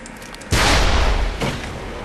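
Gunshots in the first-person shooter Ace of Spades: two loud, booming shots about a second apart, the first heavier and ringing out into a fading tail.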